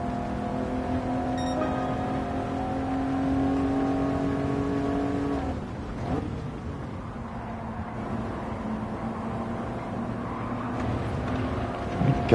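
A sustained car engine drone in Gran Turismo 7 with steady harmonic tones, shifting pitch midway as revs change, continuous and fairly loud throughout.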